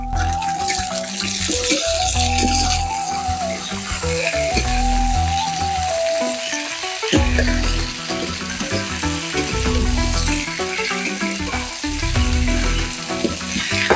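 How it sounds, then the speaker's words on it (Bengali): Flat beans tipped into hot fish-frying oil with lightly fried onion and green chilli set off a loud, steady sizzle and crackle that continues close up for the whole stretch, with no voices. "হালকা ভাজা হয়ে গেছে, এবার শিমটা ঢেলে দেব।"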